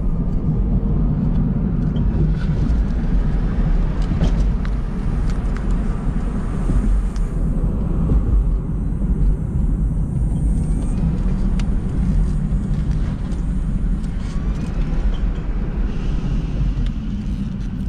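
Electric Smart car fitted with a power module accelerating from 0 to 45, a steady loud low rumble and road roar that holds evenly throughout with no talk.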